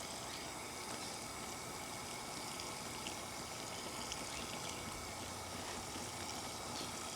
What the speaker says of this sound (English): just water them all the way through until you see the water running out through the base of these pots